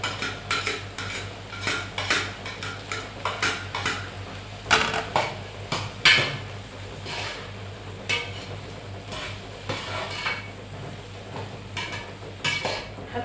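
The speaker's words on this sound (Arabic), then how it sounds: "نحط البصلة تتشوح معاه بقى يا حبايبي." Onion sautéing in a pot for green fava bean koshari, with a rapid series of metal spoon scrapes and clinks against the pot over a low sizzle, close and moderately loud throughout.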